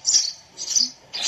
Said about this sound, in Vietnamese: Tiếng còn chim sẻ cực kỳ hay nhé